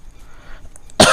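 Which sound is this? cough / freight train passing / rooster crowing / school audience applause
cough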